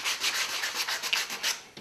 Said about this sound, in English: I'll keep sanding. Go through a couple different grits.